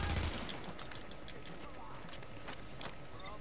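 Gunfire from a shotgun enemy in The Division's Dark Zone, with sharp repeated bursts and scattered shots crackling over a dense, noisy battle background, one louder blast near the end.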